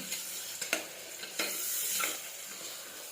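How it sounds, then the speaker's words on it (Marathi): Tomatoes with turmeric frying for moong dal khichdi, a soft steady sizzle under a few sharp spoon scrapes against the pan, close and fairly quiet. "टोमॅटो पूर्ण फ्राय करून घ्यायचे"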